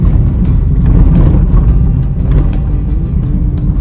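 A Honda City sedan driving on a mountain road, its engine and tyre rumble loud and steady from inside the car, with faint ticking and clicks over the continuous drone.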